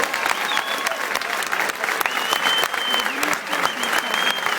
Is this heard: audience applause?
yes